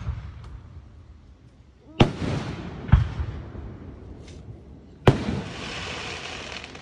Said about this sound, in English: Sounds like it's a wet fireworks.